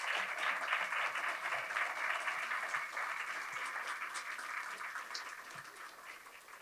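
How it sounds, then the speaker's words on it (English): Audience applause at the close of a panel discussion on oceans and sustainable development, a steady dense wash of clapping sustained throughout and slowly tapering toward the end, with no talking over it. "Let's go ahead and give yourselves a round of applause"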